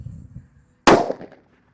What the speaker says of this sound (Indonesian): Kalau di sini ada mercon disco happy flower yang warna ungu guys. Ini yang meledosnya paling kenceng guys.